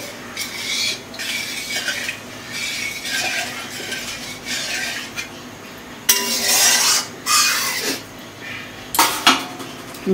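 Fried eggs being stirred in a pan, with a utensil scraping and clinking against the metal in repeated bursts, some sharper and louder strokes later on, fairly close.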